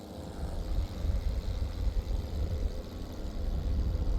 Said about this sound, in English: Noisy damn airplanes.